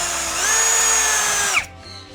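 A NANWEI 16.8V cordless screwdriver drill drives a long screw, whirring steadily at close range, then winds down abruptly as the motor stops.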